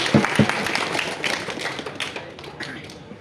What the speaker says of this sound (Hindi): बहन के लिए ताली बजा दें।